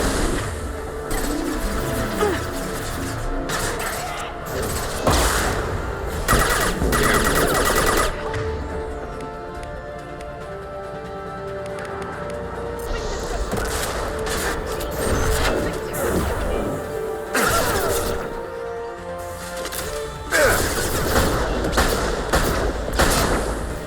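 Gunfire in Mass Effect 2 Legendary Edition, a burst of shots with sharp repeated cracks over a busy bed of combat effects and game score, loud and close, with brief quieter gaps between volleys.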